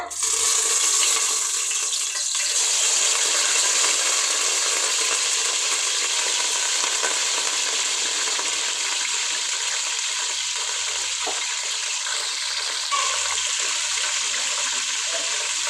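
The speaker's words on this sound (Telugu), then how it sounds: "అదే నూనెలే చికెన్ అయితే తాలింపు వేసేస్తా" Chicken pieces sizzle in hot oil left from frying onions, for a chicken dum biryani. A loud, steady crackling hiss runs throughout with only slight swells.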